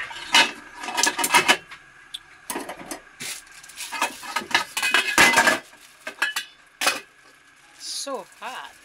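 Clattering metal cookware around a pot of noodle soup with egg and vegetables, with sharp clanks and clinks in bursts as a lid is set on, and a voice speaking briefly between the knocks.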